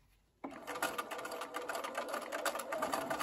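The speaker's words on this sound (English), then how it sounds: "I'm stitching a 1/4 inch from the edge" A sewing machine starts abruptly and runs steadily, stitching quilt fabric a quarter inch from the edge while piecing a LeMoyne Star block with Y-seams; the close, even whirring continues to the end.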